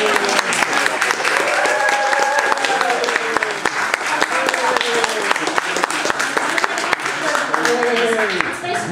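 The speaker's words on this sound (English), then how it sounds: "You can hear the clap." Volunteers applauding at a thank-you gathering, brisk sharp claps from a small group running throughout, with a voice speaking over the clapping.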